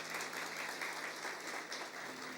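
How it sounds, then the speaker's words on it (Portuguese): A church congregation gives warm, sustained applause to welcome visitors, a dense steady patter of many hands clapping at once, filling the room evenly for the whole stretch with no voices over it. "Uma salva de palmas bem calorosa para os nossos visitantes"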